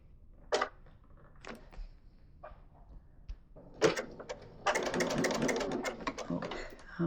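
A sewing machine joins pinwheel quilt pieces, starting with a few short, hesitant bursts before settling into a steady, close whirring run of stitches.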